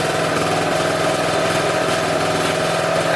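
Scooter engine held at about 2,400 RPM with its idle mixture out of tune, giving a loud, steady, close drone with a fast even pulse and no breaks.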